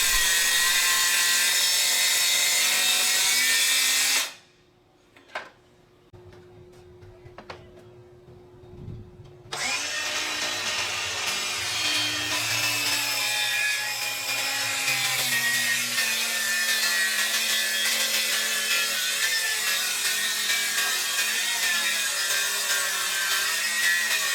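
Large MDF panels for a miter saw stand being cut outdoors with a saw, a loud sustained rasping cut, then a few seconds of near quiet with faint clicks, then a long continuous cut again.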